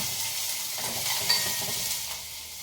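Steady, soft sizzle of onions frying in tempering oil with a faint stirring scrape, continuous and fairly quiet throughout, no voices.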